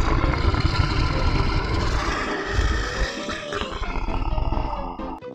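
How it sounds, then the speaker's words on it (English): A tiger roars, a loud, rough, sustained growling bellow that swells and fades over several seconds, heard alone without voices. "T is for tiger."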